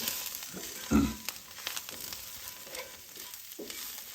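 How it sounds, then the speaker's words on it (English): Mushrooms seasoned with garlic and salt are stirred as they fry in a pan, giving a constant soft sizzle with one louder scrape of the utensil early on. "We're going to stir them up good."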